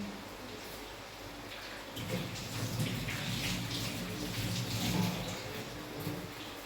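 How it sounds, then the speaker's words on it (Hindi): Hands washed under a running tap, a steady wash of water that swells louder and busier midway through, close by with no talk. "एक बार हाथ धो लूं।"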